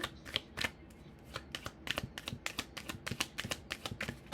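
Tarot cards shuffled and drawn in a series of crisp, rapid riffling snaps and slaps at close range, with short pauses between bursts and no talking.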